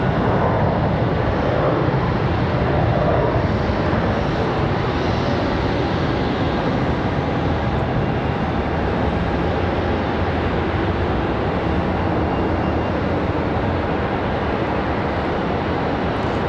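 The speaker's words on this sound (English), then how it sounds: "CRJ." A CRJ regional jet at Charlotte Douglas airport makes a constant, broad engine rush that holds steady at moderate loudness throughout, with no talking.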